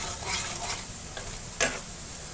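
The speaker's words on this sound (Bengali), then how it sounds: "লাল লঙ্কার গুঁড়ো দিয়ে দিচ্ছি, ঝাল যেরকম খাবে সেরকম দেবে।" Red chili powder stirred into frying masala for a catfish curry, a steady hissing sizzle with a few scraping stir strokes and one sharper clatter near the end.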